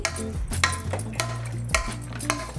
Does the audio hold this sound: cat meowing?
no